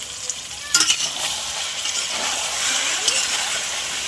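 Chicken pieces go into a pan with potatoes and sizzle steadily with a bright, continuous hiss, while a brief clatter of stirring comes near the start and a fainter scrape follows later.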